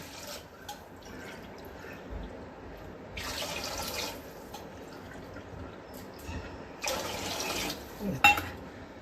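Three cups of water are poured for cooking rice in a kitchen, giving a few separate splashing pours over a quiet background, each lasting about a second.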